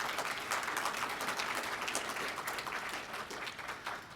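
Applause for the student body at a conference opening rises from a fairly distant audience, a soft, continuous patter of many hands clapping that fades slightly toward the end.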